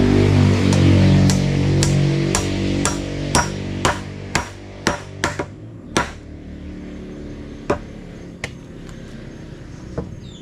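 A series of sharp metallic hammer strikes, loud and ringing at first, then spaced farther apart and fading, with no talking.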